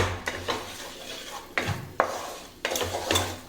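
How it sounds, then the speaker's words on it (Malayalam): Spice powders are sautéed in a pan for lemon pickle, with a utensil scraping and clinking against the pan in several sharp strokes over a soft sizzle. "ഇതൊന്ന് നന്നായിട്ടൊന്ന് വഴറ്റണം"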